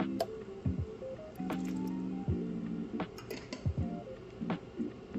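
Shrimp broth poured into a pot of green leafy vegetable soup, a close splashing, gurgling pour with squishy liquid sounds and small drips, steady for several seconds.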